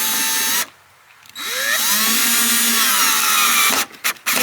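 A power drill drives screws into a wooden chicken coop, whining loud and close in two long bursts separated by a short pause, with a few brief stops near the end.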